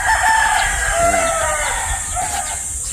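Battle stag breeder gamefowl crow and cluck close by, several overlapping rooster calls over a few seconds, with a voice speaking faintly underneath.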